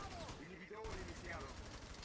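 Gunfire from a mobile first-person shooter, Rainbow Six Mobile, with faint rapid shots in the background, partly masked by game sounds and a voice.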